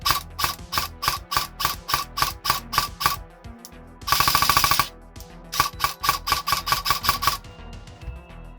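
A Specna Arms X Series airsoft gun fires repeated sharp mechanical cracks in semi-auto, about a dozen evenly spaced shots, then a fast buzzing burst, then another run of single shots, loud and close.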